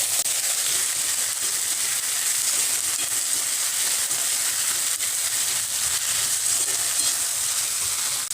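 Taro stolons sizzle in hot oil with a steady, loud hiss as salt and turmeric powder are stirred in. The frying noise continues evenly throughout with no talking.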